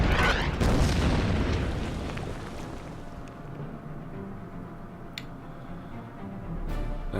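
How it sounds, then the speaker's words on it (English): Artillery fires at a cruiser in the strategy game Order of Battle, a single heavy boom rolling into a long fading rumble, then a quieter, steady low roar with a couple of faint clicks. "We'll fire the artillery on the cruiser"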